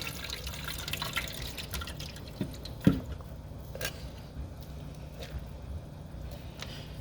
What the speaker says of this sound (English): And I'm going to strain the corn.